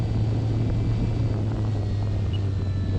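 Small RC airplane on a long landing approach into the wind, a steady motor drone with a constant low hum throughout, fairly even in level and partly mixed with wind noise.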